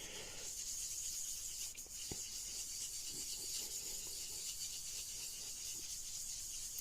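A fine abrasive, about 600 to 800 grit, is rubbed over a freshly sanded wooden gunstock, giving a soft, steady, hissing rasp that continues evenly and quietly throughout.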